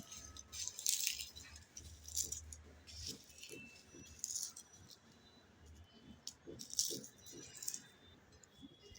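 Roasted chili peppers mashed with salt by hand for a Bengali eggplant bharta, giving soft wet squishing and rattling clicks in irregular bursts, close up and fairly quiet, with no talking.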